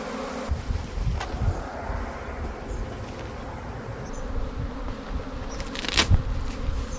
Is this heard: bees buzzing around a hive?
yes